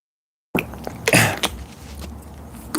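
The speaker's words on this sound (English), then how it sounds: "I need a cough." After a moment of silence, a person lets out a few harsh coughs close by, the loudest burst in the middle, then quieter breathing.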